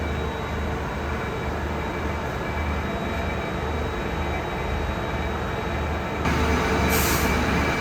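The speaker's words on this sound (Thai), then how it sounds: "นี่นะครับขบวน39 จอดอยู่ที่สถานีชายาในขณะนี้นะครับ" A Daewoo diesel railcar train of the State Railway of Thailand stands at Chaiya station, its engine holding a continuous dense idling drone with a faint high whine, rising slightly louder near the end.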